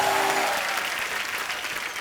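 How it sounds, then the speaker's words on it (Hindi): Studio audience at a comedy talk show breaks into dense, steady applause, loud at first and thinning slightly toward the end. "एक बार अक्षय पाजी और रितेश के लिए जोरदार तालियां"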